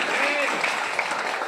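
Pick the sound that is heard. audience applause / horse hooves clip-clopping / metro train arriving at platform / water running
audience applause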